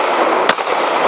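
A compact pocket pistol firing a hollow point round at a target, one loud sharp crack partway through, close and heard over a loud, steady background rush.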